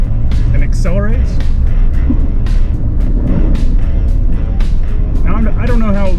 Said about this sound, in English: A little bit of spin, but it seems to dig in and get traction